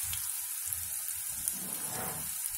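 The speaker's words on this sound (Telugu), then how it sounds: "దీనికి ఆనియన్ వేయించుకుందాం, ఒక 1 మినిట్ వేయిద్దాం." Chopped onion frying in hot oil in a pan for a raw nettallu (dried anchovy) curry, a steady close sizzle with soft crackling bubbles, heard alone without talk.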